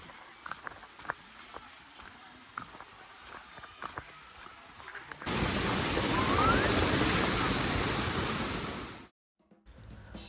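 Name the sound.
Amruthadhara waterfall flowing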